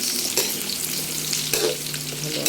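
Mixed vegetables of chayote, carrots and broccoli stir-fry in a pan, a steady loud sizzle with scraping stirs around the half-second and one-and-a-half-second marks, no talk.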